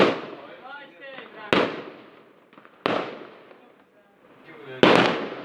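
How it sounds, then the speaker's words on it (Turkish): Fireworks at an outdoor display burst in several loud, sharp bangs spaced about a second apart, each with a crackling tail, while people talk excitedly between the blasts. "Havai fişek mi ne?"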